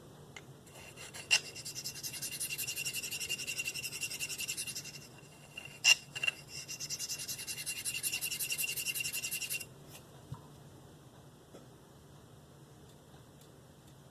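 A Spyderco Native 5 Lightweight knife with a Maxamet steel blade is drawn across a sharpening stone in two long, even stretches of close, quiet rasping, separated by a short pause and a few light clicks.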